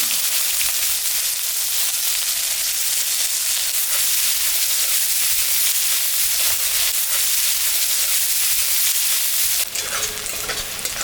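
Onion hitting hot oil already seasoned with cardamom, dried chilli and cumin sizzles loudly and steadily, with stirring scrapes running through, and a brighter burst of frying near the end.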